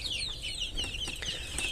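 Chickens and young chicks on a small farm give a steady stream of high, close peeping calls with no pause.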